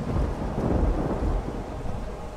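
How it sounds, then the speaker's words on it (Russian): Thunder rumbles over steady rain in the horror video game Pineview Drive, a deep continuous roll that stays loud and close through the whole stretch with no voices. "Гроза, гром."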